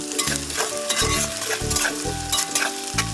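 Onions sizzle close up in a hot pan while a spoon scrapes and stirs in quick, repeated strokes.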